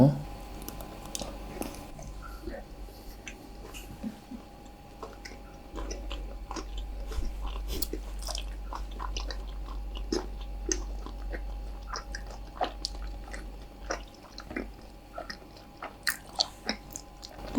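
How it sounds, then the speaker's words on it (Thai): Close, wet chewing and crunchy bites of a green tea dessert made to look like dirt with worms, irregular mouth sounds repeating throughout at a quiet level. "เราจะมากิน ดินที่มีหนอน ดินกันหนอนชาเขียว"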